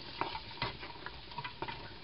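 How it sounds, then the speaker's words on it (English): Chopped garlic sizzles steadily in a hot pan for a healthy broccoli soup. A spoon or spatula scrapes and stirs it, making several soft knocks over the constant frying hiss. "you can hear it sizzling now"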